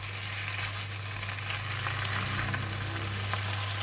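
Chinese broccoli (kailan) stir-fried in a hot wok, a steady close sizzle that stays even throughout with no voices, part of a dish made with salted fish.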